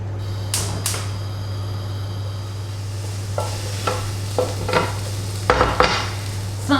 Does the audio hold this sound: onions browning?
yes